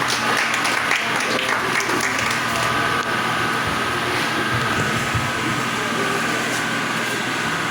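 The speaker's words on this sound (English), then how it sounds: "Please let's applaud them as they come forward for their presentation." A school audience of parents, teachers and guests claps steadily for junior secondary students coming forward to present, a continuous wash of applause with a faint voice underneath throughout.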